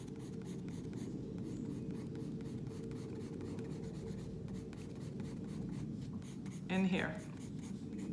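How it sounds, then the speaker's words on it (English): Pencil shading lines on paper in a middle school cross-hatching demonstration, a steady soft scratching that runs throughout under a teacher's voice, with a brief spoken remark near the end. "I just don't push as hard on my pencil, so I'm getting a lighter line."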